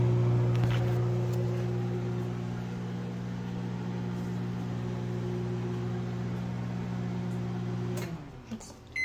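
A microwave oven heating pizza runs with a steady low electrical hum and drone, close and even for most of the stretch, then shifts and breaks up near the end as it stops.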